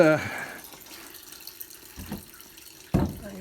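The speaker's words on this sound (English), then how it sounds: "It's spilling all over the place. Where's all this coolant coming from?" Engine coolant trickles and drips out of a Duramax diesel engine during a water pump replacement, a faint splashing flow with a few soft drips, while someone talks at the start and end.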